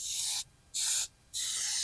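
Gasket sealant sprays from an aerosol can onto an aluminum valve cover for a Nissan VK56 engine in three close, hissing bursts with short pauses between.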